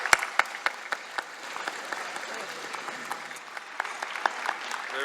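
A round of applause at a scholarship awards ceremony, with close sharp claps at the start and a steady clapping crowd that continues throughout.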